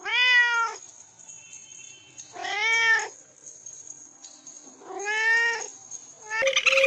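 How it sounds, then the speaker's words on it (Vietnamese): A cat meows three times in long, drawn-out wails with clear pauses between, close and loud, followed by a brief start of a fourth call. "Con mèo."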